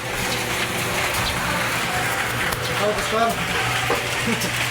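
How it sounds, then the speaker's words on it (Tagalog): Rain patters steadily on a roof during roofing work in a crackling, sizzling hiss that holds at an even level throughout, with occasional low knocks and hums beneath it. "naulan na naman"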